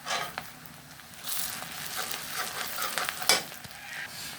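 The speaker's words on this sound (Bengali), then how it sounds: "পেঁয়াজ আর রসুন আমি হালকা ভেজে নেব।" Onion and garlic frying in oil in a pan, with a close, steady sizzle and a few scraping stirs and clinks scattered through it, fairly quiet, and no talk.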